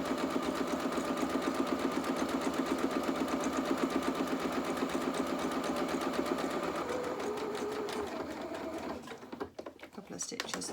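A domestic sewing machine stitches a seam on small doll pyjama bottoms, a steady fast whirring run up close that slows and stops near the end, followed by a few faint handling clicks.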